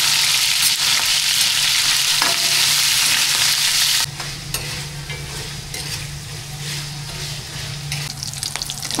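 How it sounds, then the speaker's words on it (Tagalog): Pork browns in a frying pan with loud, steady sizzling that drops abruptly halfway through, then continues quieter with occasional stirring scrapes. "Ito naman tapos yung ating pork mga paps, ating pinaka-brown"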